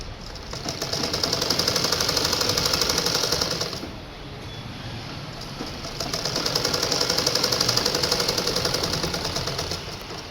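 A sewing machine stitching a gown runs in a fast, even rattling burst of about four seconds, pauses briefly, then runs again for another four seconds, close and fairly loud, with no talking.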